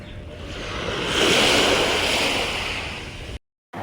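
Sea waves wash onto the shore in one broad, swelling rush of surf with wind buffeting the microphone, loud and close, before the sound cuts out abruptly.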